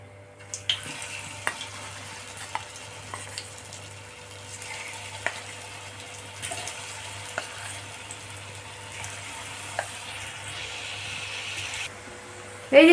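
Cauliflower pakoras deep-frying in hot oil for chilli gobhi manchurian give a steady, moderate bubbling sizzle throughout, with occasional soft clicks of utensils and a sharper knock at the very end.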